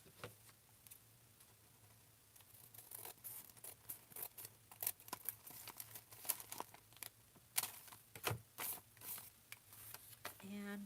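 Paper being cut for a privacy envelope journal, with a series of crisp snips and rustles spread unevenly through the clip, close and fairly quiet against soft background noise.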